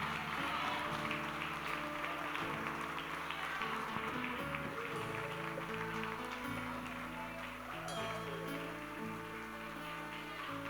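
A church congregation claps during a service, a dense patter of hands spread across the room, mixed with sustained music and a murmur of voices, fairly quiet and continuous throughout.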